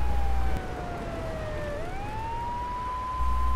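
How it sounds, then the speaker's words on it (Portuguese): Police car siren in the Definitive Edition of GTA 3, on a rainy city street: a single loud wail sweeps down then rises again, steady and close over low engine hum, no talk. "Vou deixar a sirene ligada aqui para esses caras sair da frente."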